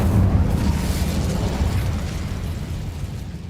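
A fire spell blast from the Incendio charm in Hogwarts Legacy, a loud rumbling whoosh of flame that holds steady and slowly fades over a few seconds.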